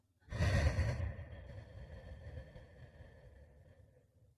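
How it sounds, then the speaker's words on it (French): One long, close exhale, audible at first and then gradually softening and trailing off, during a guided belly-breathing relaxation exercise for a child. "gonfle le ventre et expire en relâchant le ventre."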